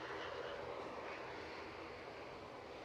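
An EasyJet airliner departing Edinburgh Airport for Nice produces a faint, steady engine roar heard at a distance, a continuous wash of noise with no distinct peaks.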